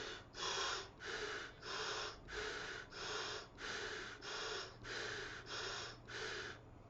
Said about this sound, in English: So I'm just going to show you me breathing through this